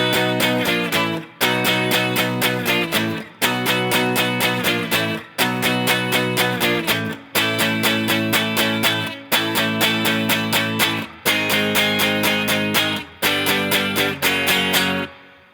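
Guitar chords from a song, strummed in a steady repeating pattern of bright, full chord hits, each phrase separated by brief gaps, played alone and up close.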